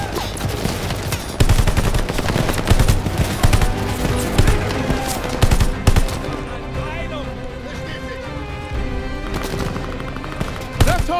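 Rapid machine-gun and rifle fire rattles through a World War II battle in Call of Duty: Vanguard, loud dense bursts over music for the first half, then easing to a sparser backdrop with occasional shots.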